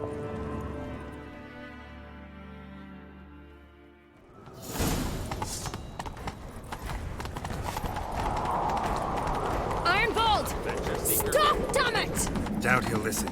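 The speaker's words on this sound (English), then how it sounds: "Grab a horse, we'll chase him down." A horse gallops in The Witcher 3: The Wild Hunt, its rapid clip-clop hoofbeats bursting in loud and close after a quieter musical opening and then carrying steadily through the rest of the stretch.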